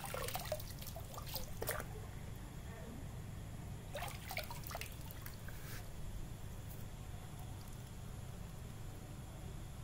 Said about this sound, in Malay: Kemudian kita buang air itu sehingga pada aras yang ditanda lah.